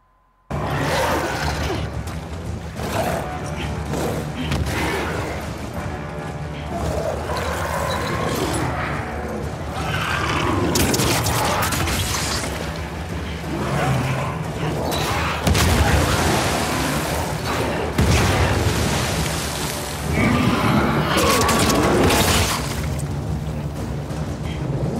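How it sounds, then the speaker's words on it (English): Pipe bomb explosions in The Last of Us Part II combat: loud, dense booms and rumbling blasts run continuously, layered with chaotic game action noise and occasional grunts. "Pipe bombs."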